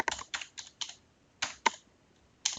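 Keys clacking on a computer keyboard as a network address is entered, short bursts of typing separated by pauses, close and clear with no talk.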